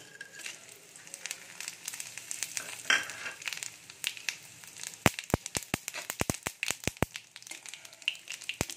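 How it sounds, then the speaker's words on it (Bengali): Whole spices hiss and sizzle in hot oil in a pan: bay leaf, dry red chili, cumin seeds, cinnamon, cloves and cardamom. The sizzle is steady and close, with sharp crackling pops that grow dense toward the end. "ফোড়নে দিয়ে দেব তেজপাতা, শুকনো লঙ্কা, গোটা জিরে, দারচিনি, লবঙ্গ, এলাচ"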